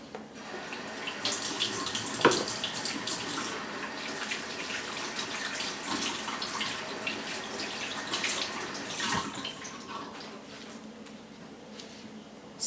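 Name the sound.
washing hands under a running tap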